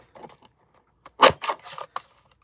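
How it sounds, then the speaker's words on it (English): A handheld craft cutter bangs down loudly through a piece of material, a short cluster of sharp thumps and clacks with quieter handling noise before and after. "Sorry about the loud banging as I use my cutter."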